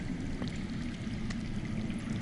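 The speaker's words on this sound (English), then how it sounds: "I hear water. From underground." Underground water flowing out of sight, a steady low rushing wash with a faint trickling edge, continuous and even at moderate distance with no voices.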